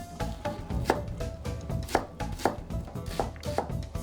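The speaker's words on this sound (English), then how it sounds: "chop the long green onion or Naganegi into relatively large pieces" Knife chopping halved, lengthwise-sliced long green onion (naganegi) into large pieces on a cutting board for natto fried rice, a steady series of close, crisp thuds about every half second.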